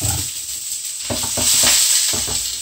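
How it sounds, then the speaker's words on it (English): Sesame oil hisses and sizzles steadily in a hot pan, a bright constant crackle with a few soft clinks and stirring bumps underneath, during a vegetable stir-fry. "now I'm just going to add about a teaspoon of some sesame oil, okay? You can hear it sizzle."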